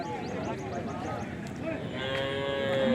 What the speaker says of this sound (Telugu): ఇవి లక్ష్మీపతి ఆవులు చెప్పిన రేటు